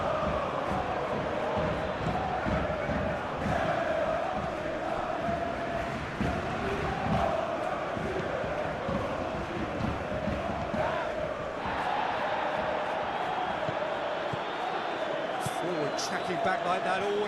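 A stadium crowd in the PES 21 football game keeps up a continuous roar and murmur, swelling at moments, under a steady commentator voice.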